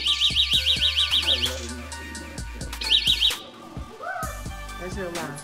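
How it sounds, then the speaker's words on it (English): Electronic alarm from a prank fake iPhone taser, rapid repeating siren-like chirps in two bursts, loud and close, with background music and some voices around it. "That's your alarm."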